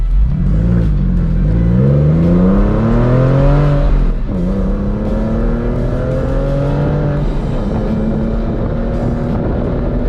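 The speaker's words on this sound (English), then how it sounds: "I love this Fister exhaust. It sounds way better." A Porsche 911 996 with a Fister aftermarket exhaust revs and drones up through the gears, a deep throaty roar that dips briefly and climbs again.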